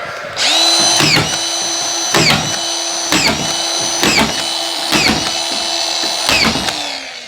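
A screw gun drives screws into drywall ceiling nogs, running in six steady whirring bursts of about a second each, close and loud, with short pauses between them.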